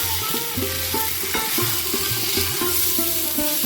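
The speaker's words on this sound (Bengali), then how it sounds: "এখানে বেগুনগুলোকে নাড়াতে হবে আর খুব বেশি ভাজবো না" Brinjal pieces sizzle steadily in hot oil while a spatula scrapes and stirs them in short, repeated strokes around the pan.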